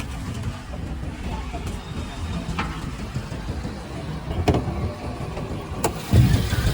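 Mercedes-AMG A 45 S 2023 with its 2.0-litre turbocharged inline four-cylinder M139 petrol engine running under an open bonnet, a steady mid-pitched hum with a few clicks and a brief louder surge near the end.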